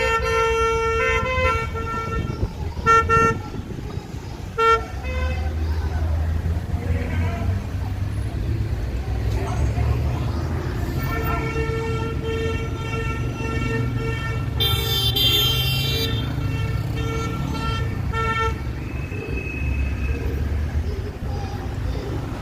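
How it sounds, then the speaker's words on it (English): Car horns honk repeatedly in traffic, with long sustained blasts and short toots overlapping over a steady rumble of engines, loud and near, and voices appear briefly. "Some say the honking will never stop."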